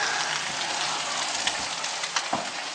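Sausages and bacon frying in a pan at a cabin in the woods, a steady close crackling sizzle with scattered sharper pops and no talking.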